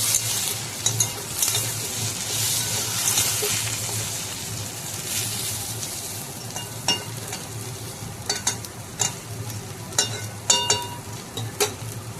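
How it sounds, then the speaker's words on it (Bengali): Snake gourd and potato frying in a pan, a steady close sizzle with scattered clinks and scrapes of a spatula stirring against the metal. "এখন চিচিঙা আর আলু দেখো আমার ভাজা ভাজা হয়ে গেছে"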